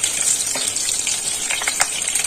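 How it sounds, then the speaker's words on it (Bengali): Dry red chillies, bay leaves, panch phoron and green chillies hit hot oil and crackle in a loud, steady, hissing sizzle, with a few brief stirring scrapes rising above the noise close to the pan. "তেল আমার গরম হয়ে গেছে, আমি এই যে ফোড়নগুলো দিয়ে দেবো, শুকনো লঙ্কা, তেজপাতা, 5 ফোড়ন আর কাঁচা লঙ্কাগুলো ফোড়নে আমি দিয়ে দেবো।"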